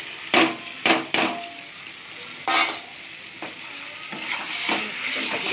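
Chicken sizzles in a spiced pan, with several sharp spatula scrapes and stirring knocks early on, then a steadier, fuller frying hiss.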